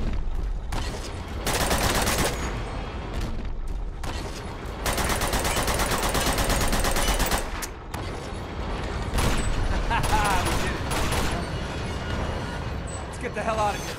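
Bursts of sustained automatic gunfire from the video game Uncharted: The Nathan Drake Collection, loud rapid volleys with brief pauses between them, heard alongside mechanical clatter and occasional talk.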